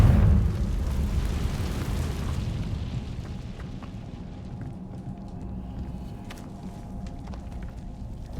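A fire-blast spell in the game Hogwarts Legacy sets off an explosion, opening with a heavy low boom that rumbles and slowly fades over several seconds, with faint game effects in the background.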